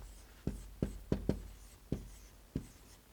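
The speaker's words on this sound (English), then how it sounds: "So let's write down number 3." Pen strokes on paper while jotting down a numbered note, heard as about seven short, distinct scratchy taps spread irregularly over three seconds, close and fairly quiet, with no talking.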